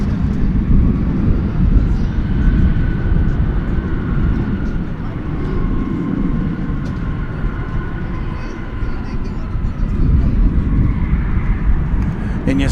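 At Dallas Fort Worth airport, one airliner departs while a flight from Denver arrives, making a continuous low rumble of jet engines that rises and falls, with a voice talking over it.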